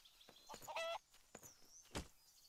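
Chicken clucking in the video game Craft The World: a few short, bright clucks and squawks close together, fairly loud against a quiet background.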